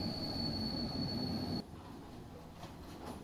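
A train heading toward Sri Pada in Sri Lanka rolls along quietly, a thin high wheel squeal riding over a soft rumble before cutting off, leaving a fainter, steady rolling hum.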